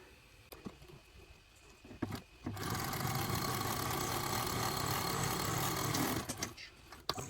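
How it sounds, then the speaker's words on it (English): A sewing machine runs steadily for several seconds sewing a quarter-inch seam on a crescent-shaped bag, a continuous mechanical whir with rapid stitching rhythm, starting and stopping with a few clicks. "I'm going to take that over to the sewing machine and I'm going to sew that at a 1/4 inch seam allowance."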